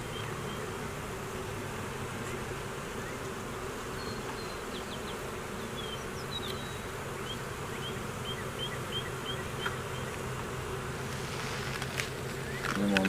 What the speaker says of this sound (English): Sometimes when I open these hives up, I don't even put smoke in there because they're so calm.